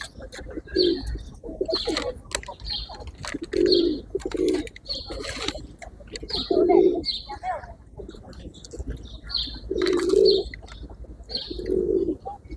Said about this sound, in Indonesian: The pigeons will come to clean up.